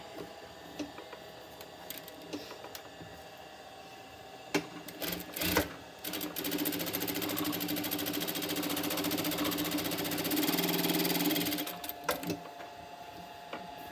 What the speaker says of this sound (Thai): แล้วก็เย็บกันยืด กันยืดรอบคอ นะแล้วก็เย็บอันนี้ด้วย